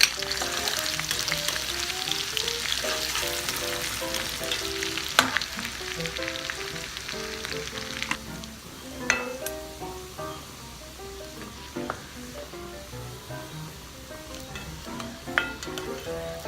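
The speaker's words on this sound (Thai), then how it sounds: "กระเทียมที่เราสับแล้วลงไปเจียวให้หอมค่ะ" Chopped garlic frying in hot oil crackles and sizzles continuously, with scattered sharp pops and occasional stirring scrapes over a faint tonal background.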